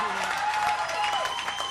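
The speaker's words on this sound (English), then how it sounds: "Cheap applause" Brief, steady audience applause at an intimate interactive Blind Melon show, a dense wash of clapping with a faint sustained tone under it.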